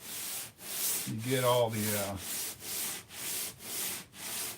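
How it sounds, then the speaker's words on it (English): Sandpaper rubbed back and forth over a foam model aircraft wing, a steady rhythmic scratching in repeated strokes about every half second, close and clear; a short voice speaks briefly partway through. "I just sand sort of a back and forth with the grain, and I'll do a diagonal."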